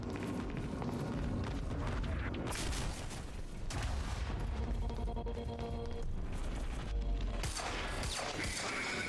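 Rapid submachine gun fire in the Quantum Break video game, dense loud bursts of shots rattling almost continuously over a heavy low rumble, with brief lulls between volleys.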